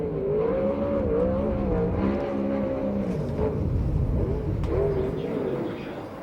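A 360 sprint car with a Warbird chassis and Shaver engine runs a qualifying lap on a dirt oval, its high engine note rising and falling continuously as it drives around the track at a USAC/CRA race in Perris, California.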